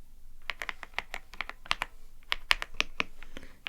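Close, soft keystrokes from a creamy-sounding computer keyboard come in quick clusters, a brief pause near the middle, then another run of typing; no voices.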